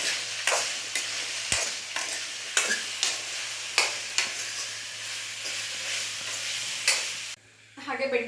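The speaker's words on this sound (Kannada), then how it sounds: "ಅಂಟು ಹೋಗೋ ತನಕ ಚೆನ್ನಾಗೆ ಬೆಂಡೆಕಾಯಿಗಳನ್ನ ಹುರ್ಕೊಂಡ್ಬಿಡೋಣ" Okra frying in a pan while being stirred, a steady close sizzle broken by repeated scraping strokes of the spoon, ending with a brief quieter pause before the sizzle returns.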